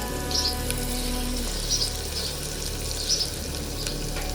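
Chopped onion fries in a pan with ginger for mengi bhat, giving a steady close sizzle and crackle, with a few brief louder stirring or spatter bursts.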